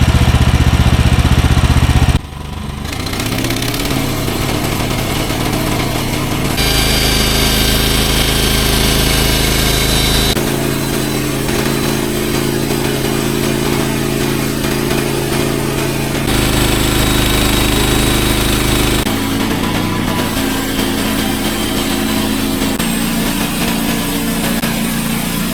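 A sawmill's small engine idles loudly and close, a steady throbbing drone that keeps running with slight shifts in pitch and no talk over it.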